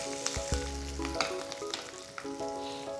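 Green chillies frying in a pan for tomato coconut chutney: a soft, steady sizzle and crackle, fairly quiet, with gentle stirring and faint sustained tones in the background.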